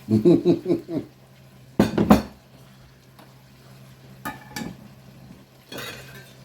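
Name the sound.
stirring pork with sugar in a pan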